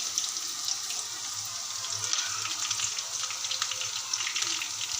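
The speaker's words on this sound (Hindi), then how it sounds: "अब ये देखें, प्याज फ्राई हो रही है।" Onions sizzle and crackle steadily in hot oil for moong daal, a close, continuous frying hiss with small pops and no talking.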